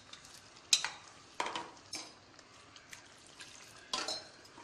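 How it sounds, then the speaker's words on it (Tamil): Ground coconut paste goes into boiling dal with a few sharp spoon-and-pot clinks and stirring scrapes, separated by quiet bubbling, close and fairly soft, no voices. "இப்போ தேங்காய் அரைச்சதை சேர்த்துக்கலாம்."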